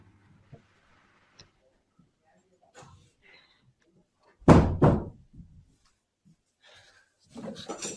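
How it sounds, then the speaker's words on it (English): A door swung shut in a quiet meeting room, one loud thud near the middle followed by a short rattle, with scattered faint movement and soft voices around it. "I'm going to close this door because I can hear the people in the office ordering their lunch."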